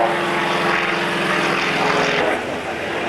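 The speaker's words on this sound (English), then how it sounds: "now here's the flycatcher replica" Fairey Flycatcher replica biplane flying overhead at an air pageant, a steady loud propeller engine drone with a rhythmic beating, easing slightly toward the end.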